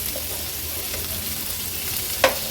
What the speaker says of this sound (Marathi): हे बघा मागच्या बाजूनी पण अगदी व्यवस्थित ही मुशी आपली फ्राय करून झाली आहे